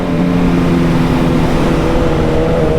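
A 2022 BMW S 1000 RR sport motorcycle fitted with a full exhaust, with a steady, loud, throaty engine note that holds nearly constant for about three seconds, close to the listener.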